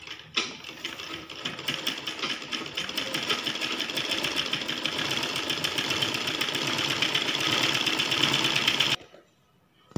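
A sewing machine runs steadily stitching the neck of a blouse, a fast, even mechanical rattle close by for about nine seconds before stopping abruptly.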